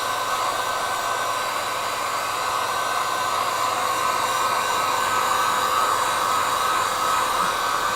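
A hair dryer blows steadily and loudly over a loose watercolor painting of a snowy Christmas scene, its constant whirring hum running unbroken from start to finish with no talking.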